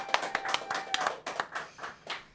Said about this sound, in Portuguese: Palmas para Paulo Vanderlei.